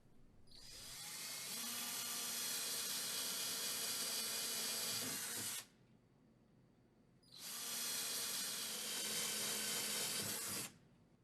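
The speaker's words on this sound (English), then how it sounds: "Then drill the holes for the fasteners." A power drill bores pilot holes into a wall for dispenser fasteners, two long steady whining runs of about five and three and a half seconds separated by a short pause, close and loud.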